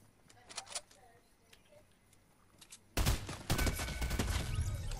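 Gunfire in the video game Fortnite during a squads match: a quiet stretch with a few faint shots, then a loud, dense burst of rapid gunfire that keeps going, with players talking over it.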